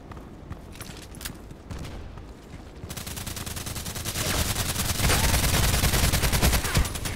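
Rapid gunfire in an online sniper video game, quiet scattered shots at first, then a sudden loud burst of dense, fast repeating fire that builds and holds to the end.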